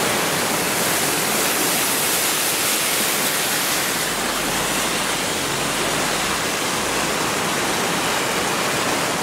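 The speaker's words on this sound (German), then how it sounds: "Ein richtig reißender Fluss." The flooded Traun river in Traunstein rushing at high water, a loud, unbroken roar of torrent close by with no voices.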